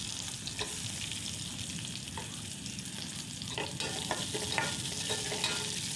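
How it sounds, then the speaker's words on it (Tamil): Chopped onions and curry leaves sautéing in a pan, a steady soft sizzle of frying with occasional scraping stirs, fairly faint and continuous, no voices. "அதுக்கு பிறகு நம்ம அந்த வெட்டி வச்ச வெங்காயத்தை சேர்த்து நல்லா வதக்கிக்கலாம்"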